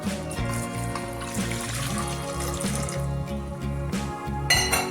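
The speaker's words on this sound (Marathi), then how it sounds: "यामध्ये आपण पाणी टाकून घेऊ" Water pours steadily into a metal pressure cooker for several seconds, a continuous splashing trickle up close.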